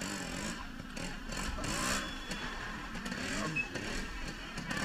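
A Yamaha RX100 two-stroke motorcycle engine holds at high revs, a steady buzzing drone close by at moderate volume without any clear speech.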